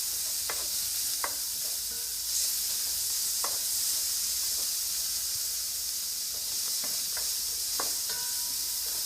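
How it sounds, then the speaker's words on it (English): Vegetables and tomatoes with onions and garlic sizzle steadily in a hot pan for soup, a continuous close hiss punctuated by occasional scraping stirs of the utensil. "and stir frying them a little bit as well"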